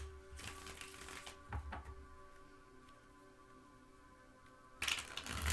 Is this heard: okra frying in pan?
no